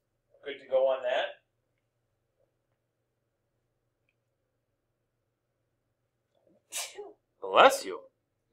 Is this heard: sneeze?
yes